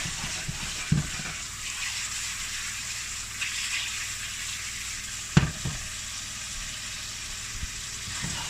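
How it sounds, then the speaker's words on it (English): Garlic sizzles in a hot pan with a steady, close crackling hiss, broken by a few clinks and stirring knocks from a utensil. "make sure things don't scorch and stuff, because if you scorch the garlic, it'll turn bitter"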